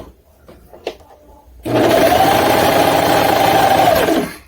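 A serger runs steadily along the hem of a sleep top, starting abruptly after a few faint handling taps and holding a loud, even whir for about two and a half seconds before stopping.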